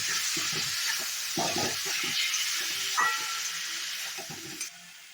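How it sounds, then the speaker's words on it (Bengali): Tomato, green chili and ginger paste sautéing with spices in a pan, a close hissing sizzle broken by repeated scraping stirs of a spatula, loud and continuous with no voices. "এবার আমি এটা ভালো করে মশলার সঙ্গে কষিয়ে নেব"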